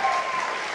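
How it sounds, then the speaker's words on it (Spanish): Brief burst of audience applause for a guitarist at a live concert, dense hand clapping from a crowd, sustained and fairly loud for under a second. "Un aplauso para él."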